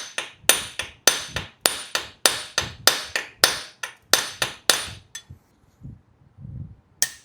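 Repeated sharp hammer blows strike seized long bolts through the engine casting of a 1985 Honda Sabre V65 motorcycle, about twenty evenly spaced metallic clanks close up, pausing near the end before one last hit.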